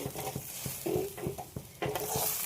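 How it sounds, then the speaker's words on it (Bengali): Potatoes sizzle in hot oil left from frying fish while a spatula scrapes and knocks against the pan in irregular close strokes, with no voices. "তো মাছগুলো ভেজে তুলে নিলাম, এবারে আলুগুলো দিয়ে"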